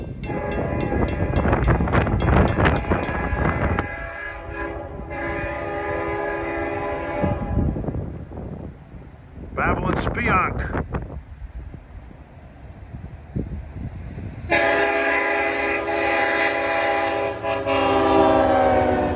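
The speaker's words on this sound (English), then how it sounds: "Leader was DE30AC 422 with a killer of a K5LL horn." A Long Island Rail Road DE30AC diesel locomotive with a K5LL horn leads a train past a crossing, the horn blaring in long loud blasts over engine roar and rolling wheels, with a brief announcement between.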